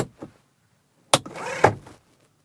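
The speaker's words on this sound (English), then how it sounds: "But the one in the front, it has a manual sunshade" A manual front sunshade in a 2022 Buick Enclave Avenir slides along its track with a short, close plastic rasp between sharp clicks, after a few faint taps.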